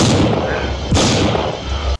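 A gunshot from the horror film House III rings out as a sharp, loud blast with a booming tail, and a second heavy shot follows about a second later.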